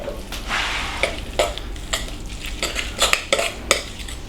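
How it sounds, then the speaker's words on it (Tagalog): A spoon stirs mayonnaise into tuna in a bowl, with scraping strokes and light clinks of utensil on the dish repeating steadily and close by. "Hinalo niya ang mayonnaise sa tuna."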